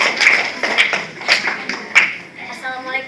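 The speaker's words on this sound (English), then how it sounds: "Give applause to contestant number" Scattered claps and taps from a contest audience greeting a contestant, a few distinct hand strikes over about three seconds, fairly close and not building into full applause.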